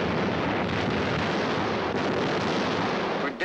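Long-range WWII guns shelling Leningrad with high explosives produce a continuous, heavy rumbling barrage, loud and unbroken, with deep booms blending together until it cuts off abruptly at the end.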